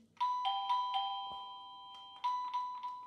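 A wireless doorbell with long range chimes as it is tested indoors, giving a clear two-tone ding-dong played twice, with a pause between the two runs of tones.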